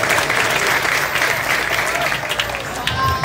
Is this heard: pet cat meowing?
no